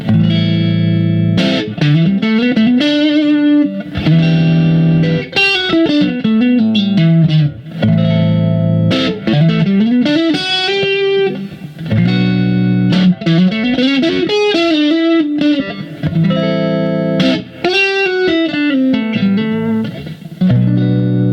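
Electric guitar played on the neck pickup through an Ibanez SD9 or Boss DS-1 distortion pedal set to low gain with the tone rolled back, giving bluesy bends and sustained phrases that keep going without pause, loud and close.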